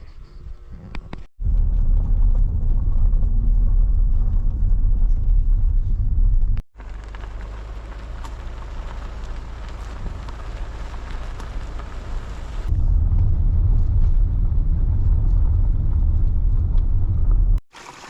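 A car driving along a forest road in Sweden, with a steady low rumble and road noise throughout; the pitch and loudness shift twice as the surface or speed changes, and no one speaks.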